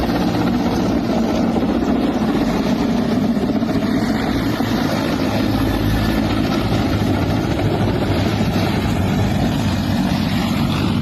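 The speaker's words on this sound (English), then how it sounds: "Have you ever seen a helicopter land on its nose?" A helicopter making a forced landing onto its nose, a loud, continuous close engine and rotor drone with a heavy low rumble and steady throb, unbroken throughout with no voices.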